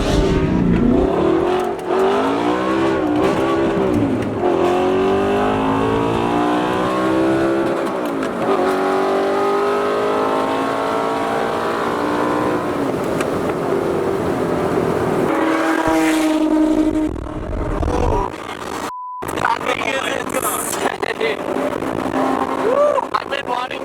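A McLaren 720S supercar roars loudly through a tunnel, its engine revving and accelerating hard with sweeping pitch climbs that echo off the walls, continuous and close for the whole run.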